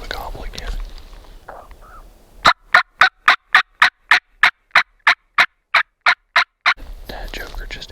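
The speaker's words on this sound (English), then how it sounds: "Alright, he's gobbling on the limb now." A wild Merriam's turkey in mountain timber on public land in Idaho gobbles from its roost limb in a rapid run of about eighteen sharp, evenly spaced calls, loud and close, with soft whispered talk just before and after.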